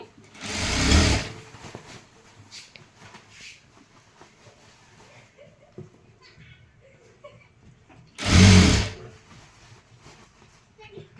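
A sewing machine stitches a zipper seam on a dress, giving two loud, close bursts of fast whirring stitching separated by a long pause with quieter handling sounds and a voice talking in between.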